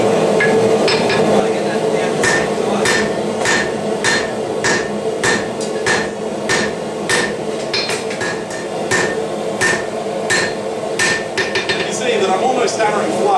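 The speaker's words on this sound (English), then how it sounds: "Hammering flat." Hand hammer forging a knife blade flat on an anvil, a long run of sharp, ringing metallic strikes at a steady, brisk rhythm, loud and close over a background hum.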